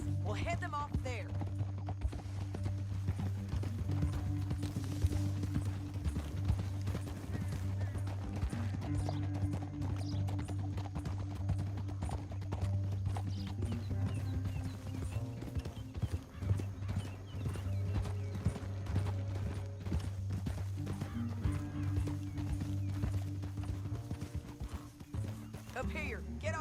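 Horse hooves clip-clop steadily in Red Dead Redemption 2 while riders travel through a canyon, under a continuous musical score with talk, and a whinny is heard briefly.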